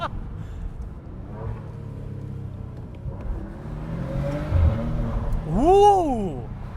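Maserati Ghibli S Q4 engine revving hard above 4,000 RPM, a rising mechanical drone that climbs and swells to a loud peak near the end, heard from inside the car.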